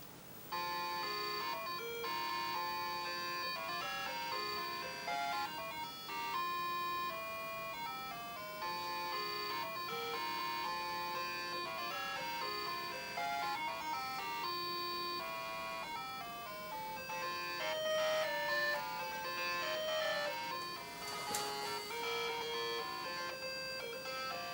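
A melody plays as three-voice chiptune from a 76489 sound chip in a vintage iPDS computer, with bright square-wave melody notes over a bouncing bass line, steady and continuous for the whole stretch.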